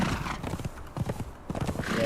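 Horse hooves clip-clopping at a steady riding gait in the video game Conan Exiles, a close rhythmic series of thuds with faint background game ambience and no talk.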